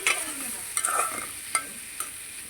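Okra (bhindi) frying lightly in a pan with onion, turmeric, chili and salt, a steady soft sizzle broken by a few sharp scraping stirs of a spatula, close and alone without voices.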